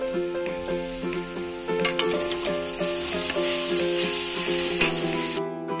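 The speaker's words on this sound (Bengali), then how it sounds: "আমি নারকেলটা না চিনি দিয়ে ভেজে নিচ্ছি।" Grated coconut frying with sugar in a pan, a loud continuous sizzle with stirring scrapes, tonal ringing from the pan running underneath; no talking.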